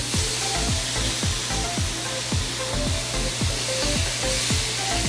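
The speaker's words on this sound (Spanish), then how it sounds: "En este momento lo que hacemos es echar la salsa de soya." Soy sauce hitting a hot pan of pork belly and Chinese onion, a loud, steady close sizzle with a regular rhythm of stirring scrapes running through it, no voices.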